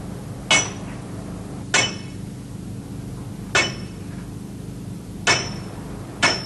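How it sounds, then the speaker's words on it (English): Five sharp metallic hammer strikes ring out at uneven intervals, each a single crisp blow over a steady low background hum. "Hammer, Harry."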